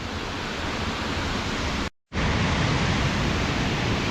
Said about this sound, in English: you can see the ferocious waterfall right here